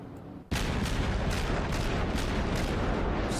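Heavy naval gunfire from a German cruiser in World of Warships opens with a sudden loud blast, followed by a steady roar of rumbling booms and repeated salvos that continue to the end.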